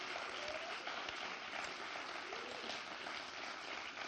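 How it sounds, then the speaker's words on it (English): An audience applauds poets at a live poetry event, a steady dense wash of clapping with no break. "you give a big round of applause, please, for our on-stage poets tonight?"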